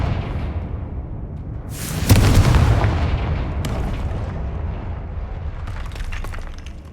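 Confringo fire spell exploding in the video game Hogwarts Legacy, a single loud boom bursting after a quieter ambient stretch, then rumbling and fading with faint crackles and no talking.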